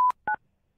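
Two short telephone keypad tones sound alone and close, one long beep then a quick double tone, with silence after.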